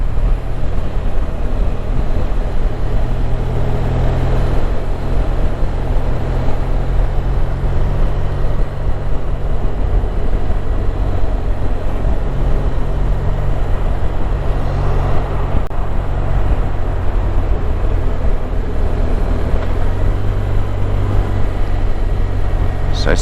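A motorcycle pulls away gently during an advanced rider training ride and carries on along the road, with a steady, close engine drone and wind rumble running throughout.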